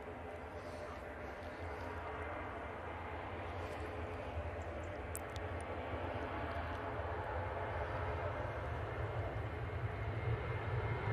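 A propeller aircraft arrives at Manchester Airport, a faint, steady engine drone with low rumble that grows slightly louder over the clip.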